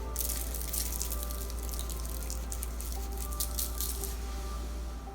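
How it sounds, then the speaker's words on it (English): Himalayan pink sea salt is sprinkled onto apples on a baking sheet, giving a fine, steady rattling patter of grains that runs for several seconds, close up over a low hum. "We're going to put a little bit of some sea salt, some Himalayan pink sea salt."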